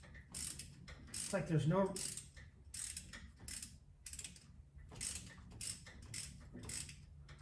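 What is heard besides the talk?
ratchet turning Ford 351 Cleveland engine by hand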